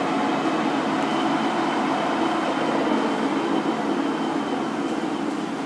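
A large 20 by 120 inch Polamco/Wafum engine lathe runs at 900 RPM, producing a steady, continuous mechanical whir and hum with no talking over it.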